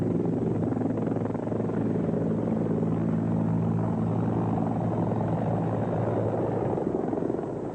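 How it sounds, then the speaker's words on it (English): A rescue helicopter's engine and rotor drone on continuously as it takes off, a loud, steady, throbbing rumble with no voices over it. "I just felt tremendously relieved when that chopper took off and was rushing him to the hospital."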